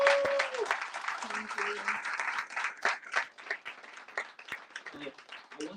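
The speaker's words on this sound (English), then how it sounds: "let's give Celeste another round of applause" An audience at a talk on maroon geographies and policing applauds warmly for several seconds, the clapping dense at first and then thinning, with a voice briefly heard over it near the start.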